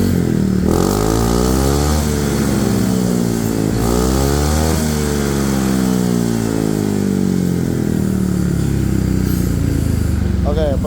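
Motorcycle fitted with an SKR Racing exhaust revving up and down through several loud rising and falling sweeps, steady close engine roar throughout.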